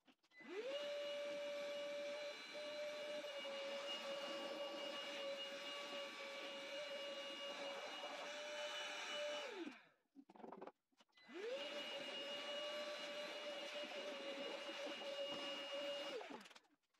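A Carrefour cordless wet and dry vacuum cleaner runs with a steady high whine and airy rush, cuts off briefly with a falling pitch, then starts up again and runs steadily, with no talking.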